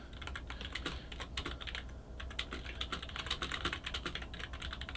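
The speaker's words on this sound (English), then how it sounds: "Apologies, didn't mute my mic before I started typing." Rapid clicking of a computer keyboard during an online game broadcast, with bursts of keystrokes and short pauses, close to the microphone at moderate level and no one talking.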